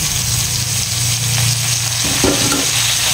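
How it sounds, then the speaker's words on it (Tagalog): Sponge gourd and eggplant sautéing in a hot pan, a steady close sizzle with occasional stirring scrapes and clinks, no voices. "igisa na nato ang atong mga ating patola at saka yung konting talong"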